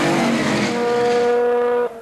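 1980 SCCA race cars roar along a straightaway, a loud, steady engine drone at high revs that fades abruptly at the end.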